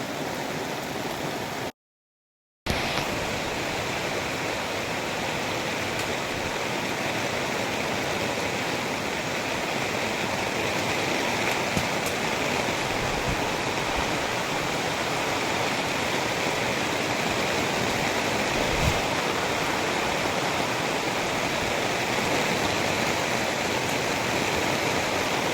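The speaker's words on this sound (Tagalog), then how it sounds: "So ayun guys, lumalakas po ang ulan." Heavy rain and wind during Typhoon Kristine, a dense, steady roar of downpour and gusts filling the whole span without letup, apart from one brief silent break near the start.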